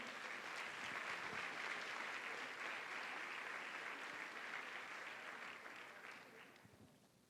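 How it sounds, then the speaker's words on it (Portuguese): A church congregation applauds during a pastor's sermon, a dense, sustained wash of many hands clapping at once, fairly distant and even, fading out toward the end. "Gostaria que você aplaudisse ao Senhor pela vida dela"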